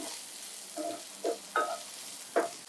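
Chicken pieces and onion stir-frying on high heat for chicken fried rice, a faint background sizzle broken by four short scraping stirs of the spatula, with no talking.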